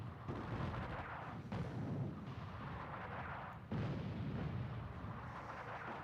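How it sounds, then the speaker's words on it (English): Anti-tank guns firing in the North Africa wargame Attack At Dawn, heavy booming shots with rumbling tails, about three distinct blasts spaced a second or two apart over a continuous low battle rumble. "Goddamn anti-tank guns."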